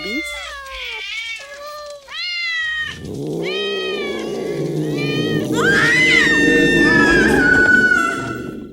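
Stray cats in a horror movie meowing in high rising calls, then a dense chorus of yowling and caterwauling swells up, loud and close, with a voice speaking over part of it.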